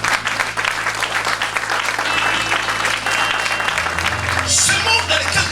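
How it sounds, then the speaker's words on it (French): Church congregation applauding loudly and continuously during a French-language Christian worship service, a dense, steady wash of clapping with crowd voices mixed in, easing slightly near the end. "Acclamons vraiment Jésus."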